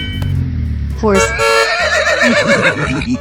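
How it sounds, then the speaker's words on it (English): A cartoon horse gives a loud, wavering whinny that rises and trembles for about two seconds, following a low rumbling noise, with no talking. "Horse."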